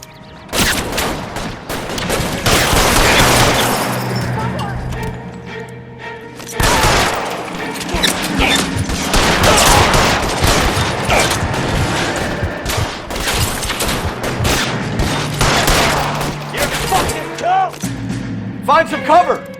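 Heavy gunfire in the L.A. Noire shootout at Nicholson Electroplating: dense, loud bursts of shots and booms over about twenty seconds, with brief lulls and people shouting over the firing.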